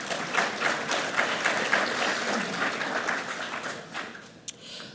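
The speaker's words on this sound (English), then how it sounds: "So a big applause to them." A lecture-hall audience at an entrepreneurship talk claps steadily, a dense patter of many hands that thins out toward the end with a few final claps.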